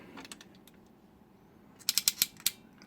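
A quick run of about five sharp mechanical clicks from a toy robot figure's knee joint ratcheting, close up after a quieter stretch of faint handling noise.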